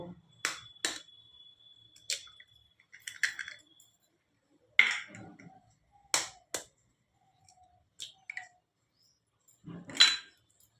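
An egg is cracked for egg pakora in a home kitchen, heard as a few sharp, quiet taps and clicks spaced apart over near silence, with faint handling noises between them.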